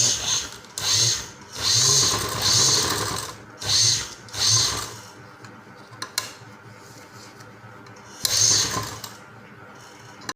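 A sewing machine stitches over folded fabric on a pant hem, running in several short loud bursts with pauses and faint clicks between them, then one last burst near the end.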